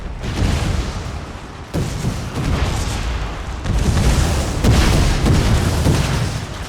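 Cannons firing in a Netherlands war strategy game with howitzers, a series of heavy booms overlapping into a continuous roar, with distinct blasts at about two, three and a half and four and a half seconds.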